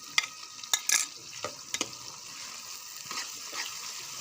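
Two spoons of finely minced garlic fry in a pan for a Pakistani masala fish curry, giving a faint sizzle with a few sharp spattering pops and clinks of stirring, close and without talk.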